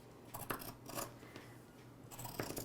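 Scissors snipping through bag lining fabric, a few faint, soft cuts spaced apart in a quiet room.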